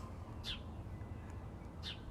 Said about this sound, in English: I do hear some birds nearby